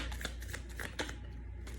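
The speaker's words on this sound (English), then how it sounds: "Just one shuffle." Tarot cards being shuffled, a soft riffling patter of quick taps and flutters that runs steadily, close up and quiet.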